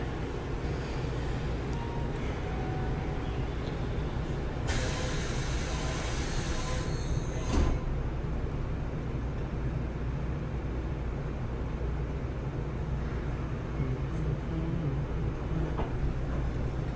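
Steady, loud rumble and hiss inside a moving train in Osaka, Japan, a continuous rolling drone with a brief rise in hiss and one sharp clunk partway through.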